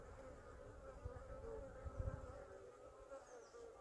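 Agitated honeybees roar in an opened hive as a brood frame is lifted out, a dense, steady buzzing hum that swells and dips slightly, close and full, with no talking.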